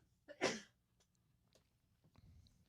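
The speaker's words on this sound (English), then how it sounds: "You shouldn't have sneezed just then." A person lets out one sharp, close sneeze near the start, followed by quiet room tone with faint rustles and small sounds.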